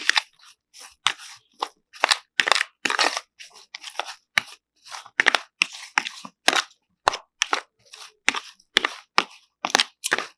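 A spoon mixes shrimp and grits ingredients in a bowl, giving a steady run of quick, crisp scraping and clicking strokes, close and fairly loud with short gaps between them, and no talking.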